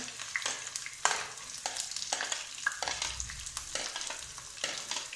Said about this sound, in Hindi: अब ये प्याज हम फ्राई कर लेंगे